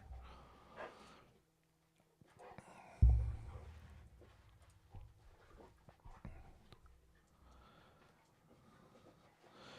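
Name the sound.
dogs roughhousing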